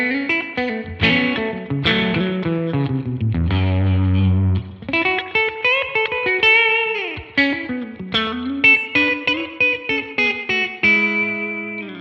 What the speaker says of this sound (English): So now we have this subtle modulation, a beautiful spring reverb, and a very subtle slapback style delay